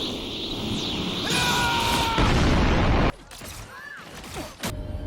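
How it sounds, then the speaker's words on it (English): Iron Man's nuke ultimate going off in the hero shooter Marvel Rivals, a loud sustained explosive roar with crackling bursts and game effects, cutting off abruptly into quieter in-game sounds. "Depending on the character, this can range from a big transformation, a boost of healing and movement for your teammates, or, in Iron Man's case, a nuke."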